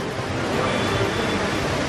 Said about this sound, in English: very windy, very rainy now.